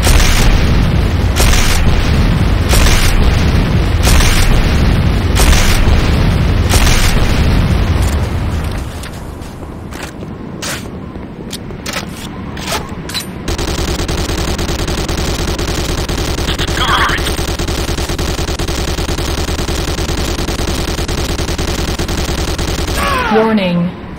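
Explosions and gunfire in the game Renegade, Command & Conquer: a rapid series of loud booming blasts over the first eight seconds, then sparse bursts and a steady hum, with an in-game announcer voice.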